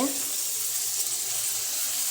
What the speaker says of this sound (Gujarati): તો હું તેમાં પાણી નાખી દઈશ રસાવાળું કરવા માટે.